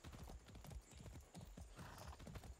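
Horse hooves clip-clopping in a quick trotting rhythm in the video game Far Cry 6, steady and continuous, with a faint neigh mixed in and no talk over it.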